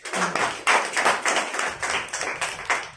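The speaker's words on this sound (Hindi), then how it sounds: "चलिए जोरदार ताली हो जाए, बैठ जाइए।" A class of students gives loud applause, heard as a series of strong, roughly rhythmic clapping bursts that swell and fade in waves, close and fairly loud, with no speech.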